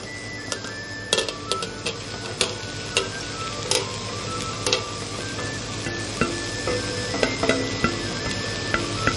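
Sliced white leek being added to a pot and sautéed for a turnip potage, with repeated clinks and scrapes of utensils against the pot over a steady low sizzle, close and without speech.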